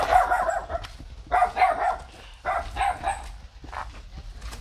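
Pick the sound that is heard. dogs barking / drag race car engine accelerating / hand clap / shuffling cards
dogs barking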